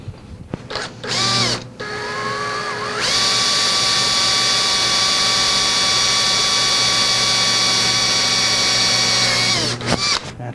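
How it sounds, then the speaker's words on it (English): A power drill bores holes in a part for a mini CNC build in a home shop, starting with short whirring bursts and then running steadily at a high whine for several seconds before spinning down. "so I'm going to drill them."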